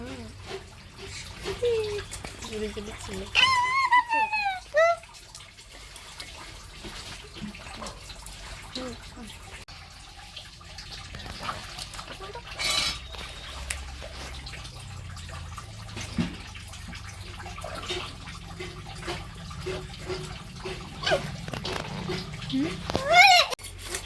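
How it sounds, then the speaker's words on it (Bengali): Fish are rinsed under running water, a trickling splash that goes on throughout with a few louder gushes, while someone talks over it now and then. "আমি এখন মাছগুলোকে কেটে ধুয়ে নেব"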